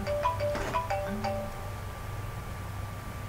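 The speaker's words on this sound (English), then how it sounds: "And that was a message, a phone call." A phone's ringtone for an incoming call plays a short run of faint electronic melodic beeps, then cuts off and leaves a quiet hum behind.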